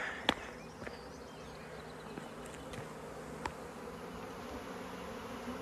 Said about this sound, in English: there's definitely a swarm in the air, and it's coming from this hive